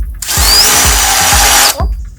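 Power drill boring a hole while building a custom towing bracket for a tiny house trailer, a loud continuous whine running nearly two seconds alone, with short knocks before, during and after the drilling.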